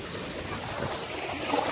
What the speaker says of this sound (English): Can you hear the ocean?